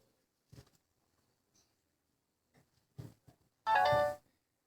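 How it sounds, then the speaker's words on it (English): A mobile phone ringtone sounds once at a Bible study, a short bright melodic burst after a few faint bumps and soft rustles in an otherwise quiet room. "Let that phone be quiet."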